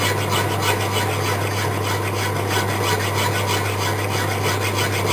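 Steady rasping of hand files drawn back and forth across metal, a continuous gritty scraping with even strokes and no talking.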